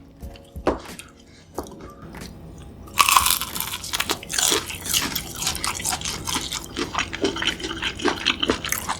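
Crunchy bites into a freshly fried convenience-store hot dog, starting with a few isolated crisp snaps, then a loud burst of crackling crunch and continued close-up chewing crunches with wet mouth sounds.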